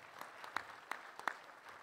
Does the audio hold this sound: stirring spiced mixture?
no